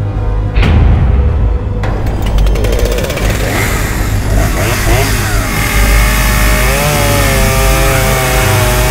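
A loud chainsaw roars continuously, its engine revving up and down over a dense, busy background with shouting voices.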